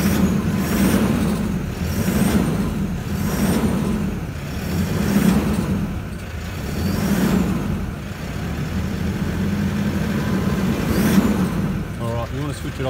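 Car engine with a suspected injector fault revving repeatedly in steady rising and falling surges, loud and close, with people talking over it.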